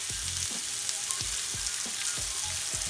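Garlic herb lamb chops sizzle steadily in a hot frying pan, a loud continuous hiss with soft pops and occasional low thuds, no voices over it.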